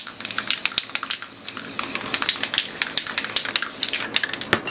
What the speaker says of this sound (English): Once again, lightly spray around the edges.